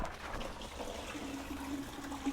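Coolant trickles and splashes steadily from a pulled lower hose on a Jeep 4.0 inline-six engine into a bucket below, a continuous watery stream heard close up with no talking.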